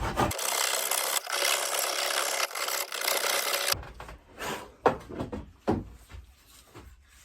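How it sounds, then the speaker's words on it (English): A small Jorgensen rasp files a wooden flea-market axe handle, first in a steady close rasping stretch, then in short separate strokes. "Just removed a little bit with that rasp is all."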